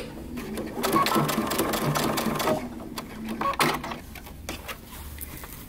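A sewing machine stitches down the hem of a wide-leg pant leg, running in steady bursts with brief pauses and some handling noise in between.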